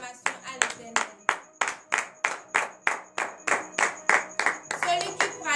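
A church congregation claps in unison during morning prayer in Benin, with about a dozen strong, evenly spaced beats in a steady rhythm. The clapping is close and clear, with faint voices underneath.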